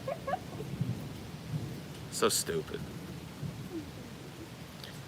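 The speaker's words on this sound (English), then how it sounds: "And this storm is actually way spookier than that one was." A thunderstorm rolls through, with steady rain and a sharp, loud crack of thunder near the middle that rumbles off. A person mutters briefly over the storm.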